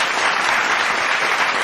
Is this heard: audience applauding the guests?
yes